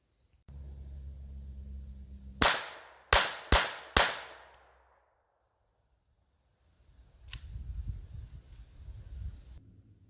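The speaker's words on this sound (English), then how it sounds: "we're going to shoot the Velocitor through a Walther P22 just to see whether it was the gun" A Walther P22 pistol firing CCI Velocitor .22 LR rounds: four sharp, loud, close cracks in quick succession with short ringing tails, then silence and wind rumble.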